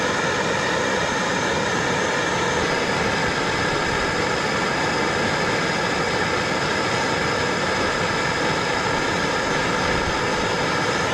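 A torch flame roars steadily as it heats solder on a battery terminal, a continuous loud hissing rush with no breaks and no voices.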